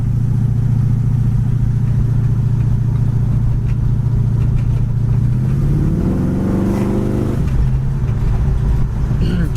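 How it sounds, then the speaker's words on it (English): A 1969 Chevy Camaro fitted with headers drives along a bumpy road. The engine drones at a steady low pitch, then climbs in pitch as it accelerates and shifts, loud and close throughout. "Also the engine with the headers and stuff is very powerful."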